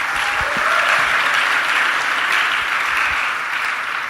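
A church congregation claps for Jesus in sustained, dense applause, loud and close, holding steady for several seconds before easing slightly at the end.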